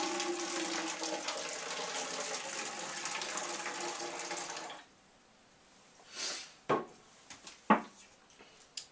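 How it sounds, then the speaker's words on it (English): Hot water heated in a microwave is poured into a bottle for a cloud formation lab, a steady liquid pour that runs about five seconds and then stops, followed by a few brief knocks and clinks. "So I have some hot water that I heated up in the microwave. I'm going to pour that in here."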